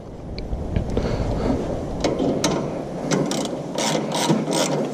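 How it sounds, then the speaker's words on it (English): A ratchet being tightened on farm equipment, loud and close, giving steady rapid clicking strokes with brief pauses and a few sharper metallic clacks, heard alone. "Ratchet on there."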